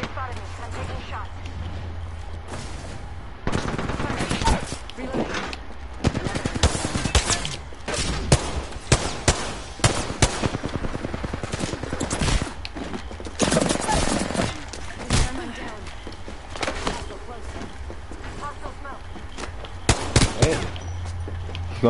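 Gunfire in the Apex Legends battle royale game, loud repeated bursts and rapid volleys of shots that keep coming and going in a hectic firefight, with faint voices now and then.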